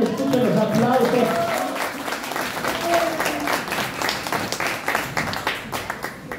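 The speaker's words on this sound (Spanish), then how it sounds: "que escuchen los aplausos" A party crowd at an adult birthday celebration with clowns applauds Alejandra, loud close clapping that gradually thins and tapers, with a voice speaking over the start.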